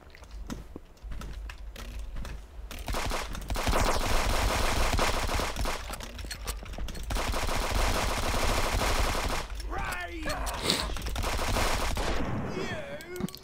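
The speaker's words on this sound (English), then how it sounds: "That turret almost got me." An automated turret in a video game rattles out long, dense streams of rapid machine-gun fire at moderate level, pausing briefly between bursts, with faint voices and game chatter underneath.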